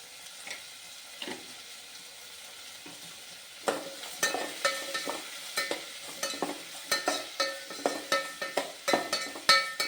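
Tomatoes sautéing in oil for sambar, with salt and turmeric powder added, give a steady soft sizzle; after a quiet start, a regular run of spatula scrapes and stirring strokes against the pan follows close by.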